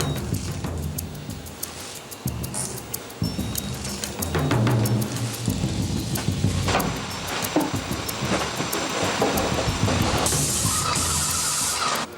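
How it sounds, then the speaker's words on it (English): A paint-style sprayer spraying cleaning solution onto interior walls, a close, continuous hissing spray with bursts and pauses, mixed with clanks of equipment and no speech. "they just basically spray the walls and wash it down"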